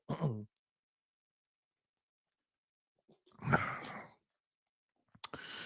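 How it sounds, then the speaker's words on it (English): A short, rough throat clearing, followed after a pause by a longer raspy clearing and a final brief noise, close and quiet. "Excuse me while I clear my throat."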